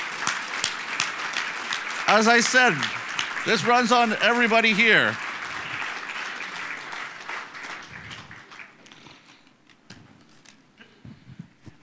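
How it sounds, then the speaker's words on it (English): Audience at a convention closing ceremony applauds the volunteers, a broad clapping wash that fades gradually over several seconds while someone speaks and laughs over it near the microphone. "And let's give them a round of applause."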